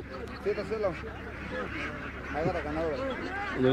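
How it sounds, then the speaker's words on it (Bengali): Local Bangladeshi ducks at a village market give repeated nasal quacks in short bursts, close by, over a murmuring crowd background. "এই দেশি হাঁস ছাড়া আর কি হাঁস পাওয়া যাচ্ছে আজকের হাটে।"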